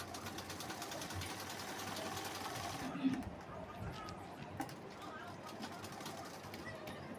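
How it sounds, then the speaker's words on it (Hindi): A sewing machine runs a loose basting stitch along folded blouse fabric, giving a steady, close mechanical whir that holds through the whole stretch and eases slightly partway through, with a faint voice in the background. "तो अभी के लिए हम यहाँ पर इसमें कच्ची सिलाई चला लेंगे"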